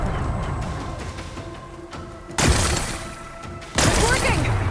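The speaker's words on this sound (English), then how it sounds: "Gotta blast away some rocks," Rocks blasted apart in the video game Horizon Forbidden West, two loud booming explosions with rumbling debris that linger over a continuous game soundscape.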